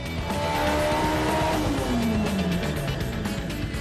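A 1991 Toyota MR2 Turbo engine revving hard at high RPM and breaking up, with a loud, continuous, sputtering engine note whose pitch falls as it stumbles.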